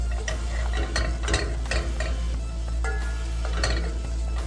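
Flour cooked in a pan for a cream sauce, stirred with repeated scraping strokes over a continuous close sizzle and occasional light clinks of utensil on pan, with no voices.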